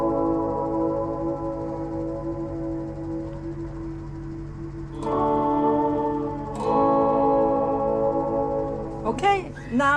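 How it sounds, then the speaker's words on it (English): Sustained guitar notes through a Fender Reflecting Pool reverb pedal in special mode ring out drenched in a shimmering, swirling reverb, with new chords struck partway through and a wavering, warbling tail at the end. "just turn on the reverb and then change to type special"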